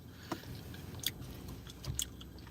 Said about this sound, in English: I'm chewing it like I always chew